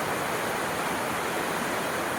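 Water rushing through a creek sluice gate toward the sea, a dense, steady roar of flowing water, loud and close, without any voices.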